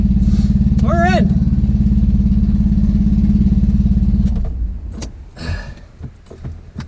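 A 1982 Fiat X1/9 engine idles close and loud with a steady, throbbing low rumble for about four seconds, then cuts out, leaving quieter handling noises and voices.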